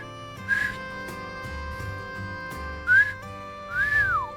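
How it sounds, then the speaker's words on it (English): A character in Trails Through Daybreak whistles a jaunty tune over soft background music, with three clear, sliding whistled phrases spaced apart, the last one rising and then falling away. "this guy whistles a lot"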